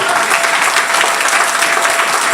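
A church congregation clapping steadily for the glory of God during a French evangelical service, a loud dense wash of many hands applauding continuously without a break.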